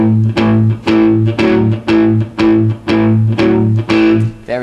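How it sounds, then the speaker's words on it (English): Palm-muted electric guitar power chords on A, a tight chugging rhythm of short, choppy distorted strums with brief gaps between them, loud and close, played alone. "you might have noticed I'm using palm muting"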